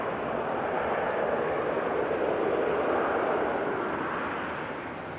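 A Turkish Airlines airliner at an airport, lined up on the runway, gives off a steady, loud broadband jet roar that holds for several seconds and eases slightly at the end, with no talk.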